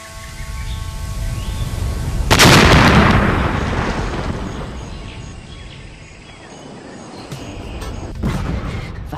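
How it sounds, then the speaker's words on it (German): A dam blown up with explosives in the game Kaptain Brawe: a sudden loud blast followed by a long rumbling roar that swells, fades, then surges again with debris crackle. "Ich habe den Staudamm gesprengt."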